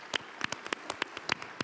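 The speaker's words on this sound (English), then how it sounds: "So give her a round of applause" Sparse, uneven clapping from a small audience, a scattering of sharp individual claps rather than a dense roar, moderately loud and close, with no talking.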